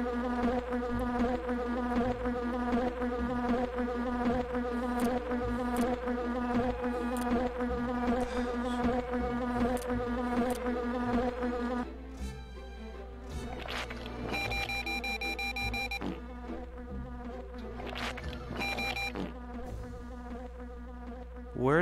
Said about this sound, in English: And the bees just get you.